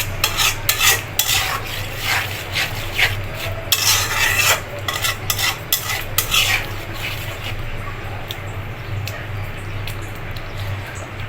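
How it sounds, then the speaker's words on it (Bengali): Spice paste being stirred and fried in a pan after a splash of water, with repeated scraping and rasping strokes of a spoon against the pan over a steady sizzle, loud and close, quieting toward the end. "পানিটা দিয়ে মশলাটা ভালোভাবে কষিয়ে নিব।"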